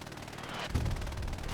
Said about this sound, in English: Love to see some blind suppressive fire of MG.